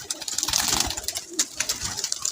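A teddy pigeon coos in a series of soft, rapid, rhythmic calls close by, with faint background hiss and no voices.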